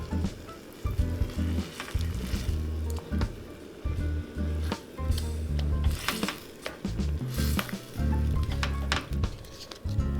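Chickpea curry simmers in a pan with chickpea liquid, water, cumin and other spices, giving a steady close sizzle and bubbling with occasional stirring scrapes and soft utensil taps throughout.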